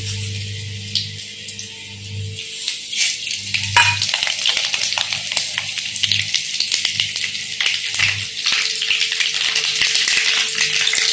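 Mustard seeds and dried red chilies sizzle and crackle in hot oil, a steady close frying hiss with scattered pops, plus a low hum underneath.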